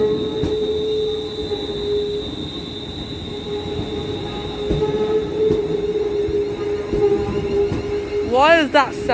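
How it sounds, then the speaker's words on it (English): A train pulls away from Gourock station with a steady high-pitched wheel squeal and rumbling rails, ending in a sharp warbling screech; voices speak faintly under it. "he dispatched the train. And it's going to be going now."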